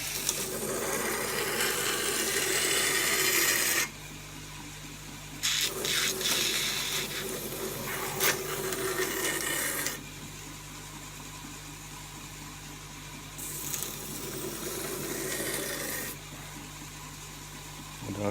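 A 40 grit abrasive scratches rhythmically across the steel surface of a knife's tapered tang in three loud, harsh bursts of rasping, with quiet pauses between them.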